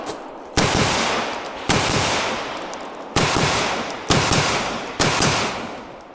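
Smith & Wesson M&P9 M2.0 Performance Center pistol firing during a USPSA match, five loud sharp shots spaced about a second apart, each trailing off with a ringing tail, no talking.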